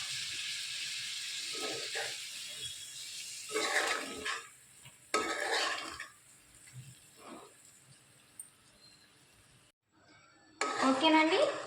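Chicken fry being stirred in a pan, with soft sizzling and scraping of a utensil against metal in intermittent bursts, the last one louder, between quieter pauses.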